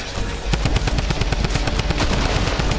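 Rapid volleys of Fortnite gunfire at close range, double-barrel shotgun blasts in a dense, loud, relentless stream of sharp reports with booming low thumps.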